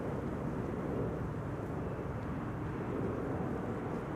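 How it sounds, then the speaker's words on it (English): An Embraer 190 airliner arriving from Aberdeen at Amsterdam Schiphol makes a low, steady, fairly faint engine rumble heard from afar, with no distinct peaks across the few seconds. "that's the Embraer 190 arriving from Aberdeen"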